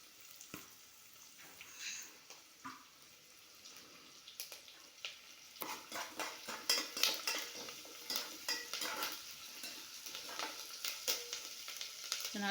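Onions and curry leaves sizzle and fry in a pan, with a steady hiss and irregular stirring clatter of a utensil against the metal, growing busier partway through, close and moderately loud with no talking.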